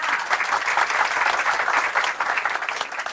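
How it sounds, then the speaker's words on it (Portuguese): Audience applause for a panelist at an education event, an even, lively patter of many hands clapping throughout, close and full, with no voices over it. "palmas para a Anastácia"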